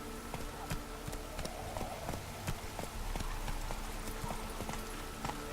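The horse Roach gallops in The Witcher 3: Wild Hunt, hooves striking in a steady, rapid clip-clop rhythm over a constant background bed throughout.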